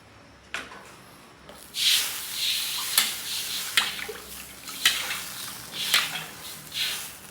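A pot of chicken sotanghon soup broth bubbles and hisses steadily at a full boil, broken by periodic scraping or clinking sounds roughly every second.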